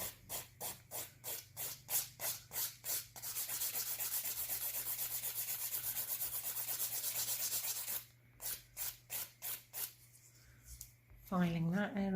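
A nail being filed with quick, rhythmic back-and-forth rasping strokes, close and loud, then one long continuous rub, then more short strokes, with a brief voice at the end.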